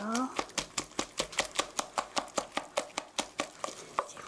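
An egg and vinegar are whisked in a bowl, the whisk clicking in a fast, even rhythm of about twenty close, crisp strikes against the side.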